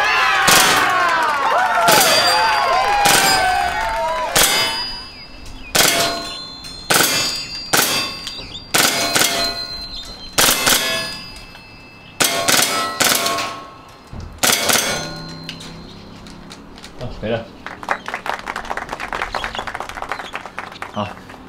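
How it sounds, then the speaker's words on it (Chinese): An MP9 submachine gun with a riot-control magazine fires a string of loud, sharp bursts close by, ringing metallic clangs spaced through the sequence, with a rapid rattling run near the end. "来准备来射击"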